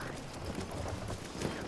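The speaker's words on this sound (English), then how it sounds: "It's a horse." Steady clip-clop of horse hooves in a game, mixed into a dense wash of background noise, with voices talking over it.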